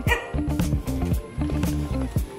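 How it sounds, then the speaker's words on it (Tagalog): A small dog yips and barks in quick bursts close by during trick-or-treating, with a few short whimpers mixed in. "Ay, may dog, DM daw"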